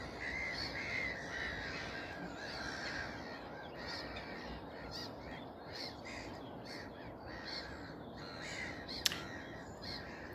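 Harsh black-headed gull calls and squawks repeat across the scene. They are fairly distant and blend into a steady background of wind and ambient noise.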